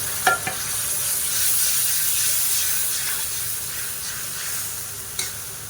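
Two to three tablespoons of water go into a hot pan of Thai ginger sauce for tilapia, and a steady loud sizzle and steam hiss follows, with a few sharp clicks at the start and near the end.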